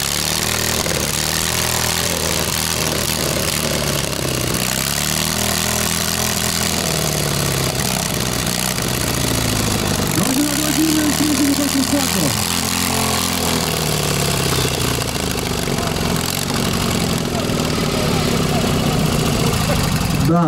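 A Ural motorcycle trike engine idles unevenly just after starting, a low throbbing rumble with occasional revs rising and falling, heard at moderate loudness amid outdoor festival background noise.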